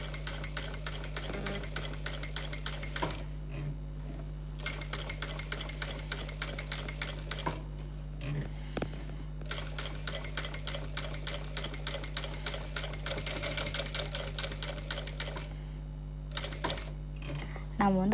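A sewing machine stitches the back of a boat neck blouse in quick, rapid bursts of mechanical rattling, separated by short pauses and a steady low hum, with faint speech underneath.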